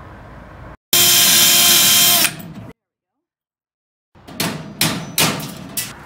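A loud drilling whine runs for over a second, then after silence a series of sharp metallic hammer strikes ring out in quick succession, punching a rivet out of a vintage metal locker.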